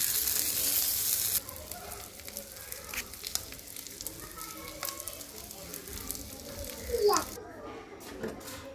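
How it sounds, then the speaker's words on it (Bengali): Black cumin seeds fry in oil with garlic and onion, a crackling sizzle with scattered pops and utensil scrapes, loud at first and then quieter; a person talks over the frying. "কালি জিরাটা ভেজে নিব। এর মধ্যে রসুন আর পেঁয়াজ দিয়ে দিব।"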